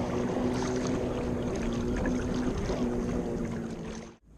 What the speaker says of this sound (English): These jet skis are great fun, I'm sure. A bit noisy.